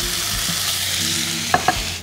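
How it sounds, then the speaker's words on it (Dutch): Pork gyros frying in a pan, a close, steady sizzle with a couple of quick scraping stirs toward the end. "En dan gaan we dus even lekker krokant bakken."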